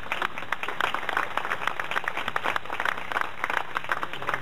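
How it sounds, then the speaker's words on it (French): An audience at a French Alps Olympic bid event applauds steadily, many hands clapping in a dense, moderately distant patter that holds for several seconds. "vos applaudissements à nouveau pour Coraline Hugues."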